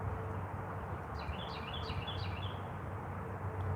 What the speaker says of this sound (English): bro, I hear the same bird.